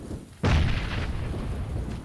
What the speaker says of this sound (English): I think he's shooting the guy.